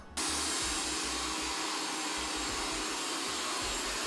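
A RoboJet X-LEVEL robot vacuum runs loudly and continuously on its highest suction setting, a steady whooshing motor roar with a low rumbling undertone, starting abruptly and holding throughout.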